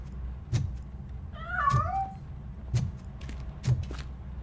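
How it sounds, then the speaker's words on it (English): A cat in the game Robocop Rogue City gives a single short meow amid a room ambience of intermittent soft thuds and clicks, fairly quiet and close. "That cat must be hiding inside."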